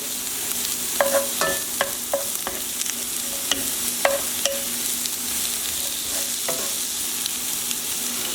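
Onions fry with a steady, close sizzle in a pan for balsamic onion burgers, broken by a series of sharp clinks and scrapes as they are tossed and moved around.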